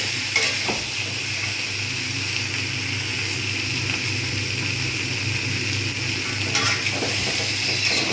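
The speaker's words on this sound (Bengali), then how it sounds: "বেশ কিছুক্ষণ নাড়ব যদি মনে হয় যে একটু তলায় ধরে যাচ্ছে" Chili and turmeric masala stirred in a pan, a continuous close sizzle with occasional soft scrapes of the spoon across the bottom over several seconds, no voices.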